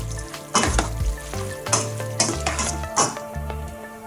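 A utensil stirs grilled mackerel into a rice noodle salad dressing in a bowl, giving a few loud scraping, clinking strokes in an uneven rhythm, up close with no talking.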